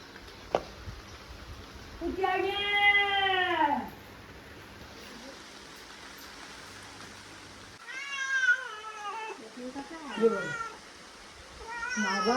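A cat meows up close in a few drawn-out, wavering calls: one long meow, a pause, then a couple more in quick succession.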